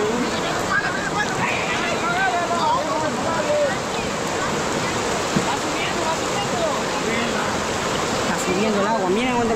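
Rushing floodwater of a rising river roars as a broad, steady wash close by, with voices talking over the torrent throughout.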